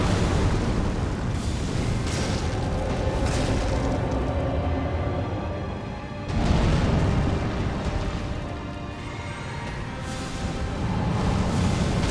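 Fire serpent flame incantations cast in Elden Ring, a dense, continuous roaring rumble with booming bursts, loud and sustained, surging again partway through without pause.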